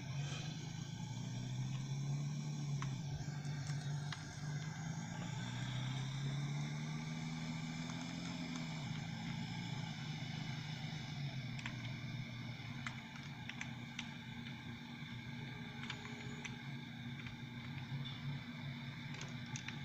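A city bus pulls away in a Bus Simulator game set in Manhattan, with a steady low engine hum that rises in pitch as it accelerates, then settles into a constant drone. No talking is heard.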